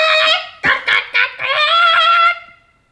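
A voice imitates clucking, crowing hens with several short, choppy squawks followed by a longer drawn-out call, loud and close with no other talk.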